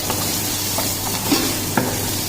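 Sambar powder being stirred into hot oil in a pan for Kerala-style sambar, a steady close sizzle with a few soft scrapes of the spoon, brief and without voices.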